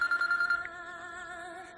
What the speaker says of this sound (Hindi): अरे फिर से टकलू का फोन है।